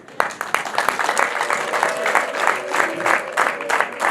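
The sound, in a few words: audience applause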